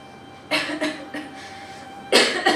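Several harsh coughs close to the microphone, a pair of bursts early on and another pair near the end, with a faint hum between them.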